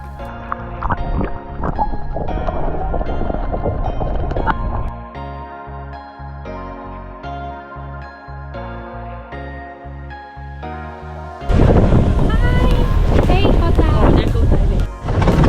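A boat motoring out to sea on a rainy day near Koh Tao, Thailand: a loud, steady engine drone with wind buffeting the microphone, and people talking over it.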